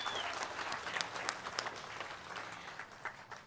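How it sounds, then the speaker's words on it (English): A crowd applauds the Norwalk All-City Band at a Veterans Day ceremony, dense, steady clapping heard from a moderate distance that gradually thins out. "let's give them one more round of applause"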